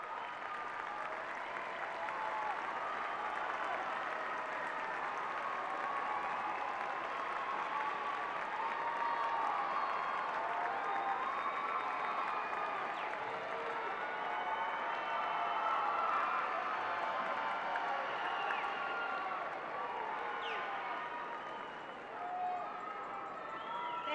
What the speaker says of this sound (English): please join me in applause for your families and support systems who've helped place you in that chair tonight.